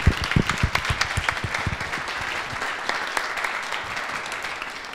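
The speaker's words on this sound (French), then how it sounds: "je voudrais qu'on les applaudisse" Convention audience at a business event on Brexit and e-commerce applauding the speakers and participants, a full, sustained burst of clapping with a few loud close claps early, then settling into an even roar.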